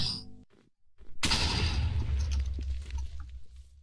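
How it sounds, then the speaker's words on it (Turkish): A sudden loud Minecraft creeper explosion bursts in after near silence, leaving a rumbling, crackling roar that slowly fades. "Creeper mı patladı?"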